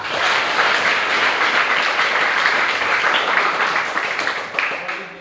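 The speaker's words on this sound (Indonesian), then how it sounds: "Tepuk tangan untuk kita semua" An audience at a teen reproductive-health outreach session applauds steadily and loudly throughout, the dense clapping tapering slightly near the end.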